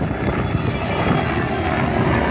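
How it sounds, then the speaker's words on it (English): A Red Bull helicopter driven by twin-shaft jet engines through a gearbox roars steadily at an air show, a dense, unbroken turbine and rotor wash filling the air at close range. "these jet engines run thrust through a gearbox, which then drives the main rotor and the tail rotor of that helicopter"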